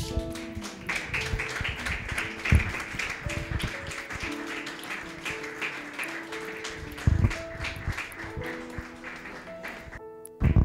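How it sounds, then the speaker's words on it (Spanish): Church congregation clapping along during a Spanish-language service, a steady patter of hands over sustained organ or keyboard tones, fairly loud and continuous with a few sharper accents. "Le damos un aplauso al Señor."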